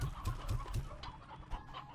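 Chicks clucking in the Slime Rancher 2 video game: four quick, fairly close clucks in a steady rhythm, then fainter game sounds.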